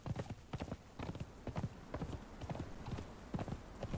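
Horse hooves clip-clopping at a steady riding pace in the game Conan Exiles, continuous rhythmic thuds close and clear over a faint background.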